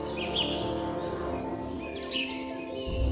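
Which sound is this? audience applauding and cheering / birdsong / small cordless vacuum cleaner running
birdsong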